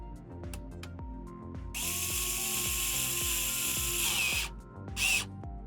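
A small screw is driven into a PS5 Pro console with a powered driver, giving a whirring buzz that starts after rhythmic clicking ratchet ticks, holds for a couple of seconds, then stops with a final short burst.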